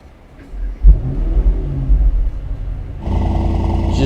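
A car engine cranks into life with a sharp burst near the start, then settles into a steady, loud, rumbling idle that steps up to a fuller roar near the end, close by with no talk.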